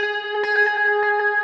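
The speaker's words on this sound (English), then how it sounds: "this echo platter creates this kind of broken sound." Processed guitar tone from the echo platter effect on a POD HD Pro, a sustained harmonic chord with a wobbly, broken, stuttering texture and brief choppy dropouts, loud and alone.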